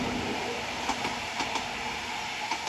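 A Class 331 electric train runs at Preston station, producing a steady rolling rumble with faint rhythmic wheel clicks over rail joints, fairly close and continuous.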